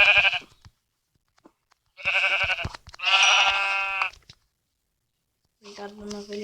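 A sheep bleats in several loud, quavering calls separated by silences, close by and with no other sounds around them.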